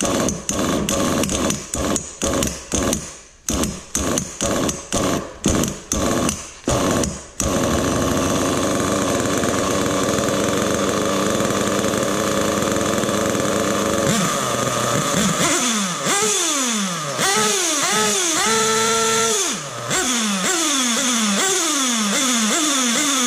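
A nitro-fuelled RC car engine being started and then running, with sharp stuttering bursts for the first seconds before it settles into a loud, high buzzing whine whose pitch rises and falls with repeated revving, close and steady.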